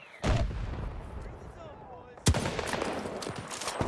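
Battlefield video game gunfire: two heavy booming shots about two seconds apart, each followed by rolling echoes and dense crackling reverberation, loud and close.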